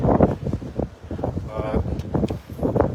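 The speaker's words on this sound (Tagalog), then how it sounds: "because of the weather, it's cold and windy" Cold, gusty wind buffets the microphone in Mabori-kaigan, Yokosuka, rumbling in uneven bursts beneath people talking nearby.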